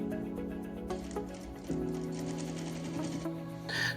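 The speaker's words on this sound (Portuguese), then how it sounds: "a gente vai dar uma costurinha aqui, ó, só pra ficar com um detalhe e um acabamento bonito" Sewing machine stitching a children's toiletry bag, a steady mechanical whir with rapid needle ticks that starts, pauses briefly and restarts, heard close and alone.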